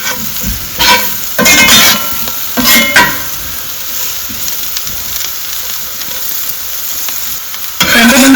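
Potato fry coated in drumstick-leaf powder being stirred in a hot pan, heard as loud scraping and sizzling strokes in several bursts over a steady frying hiss, with no talking.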